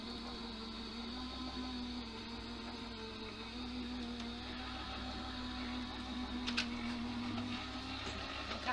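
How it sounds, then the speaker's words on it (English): A die cutter machine runs through a cut, a faint steady mechanical hum with a low droning tone, a few small clicks and one brief rattle near the end. "I'll just pop that into my die cutter."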